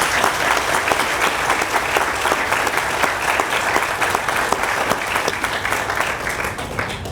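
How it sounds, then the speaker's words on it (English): Sustained audience applause fills the air at a ribbon cutting ceremony for the I-15 Limonite project, a dense, steady wash of many hands clapping at full volume throughout with no talk over it. "if you would join me in giving her a round of applause"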